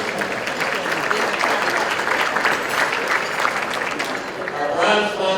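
An audience at a business luncheon claps in sustained, dense applause that holds steady throughout without a break.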